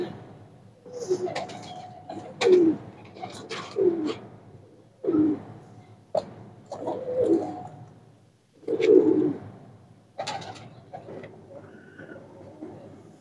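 Saharanpuri pigeons coo close by in soft, throaty bursts spaced a second or two apart, with brief pauses between calls and a faint voice now and then.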